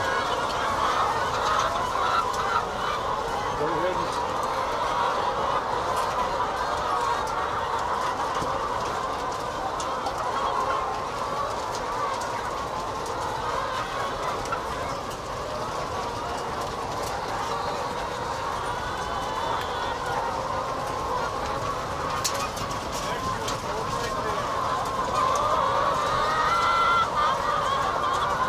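Chickens cluck all through a poultry house aisle, a dense continuous flock chorus heard close and loud, with a brief voice over it near the start.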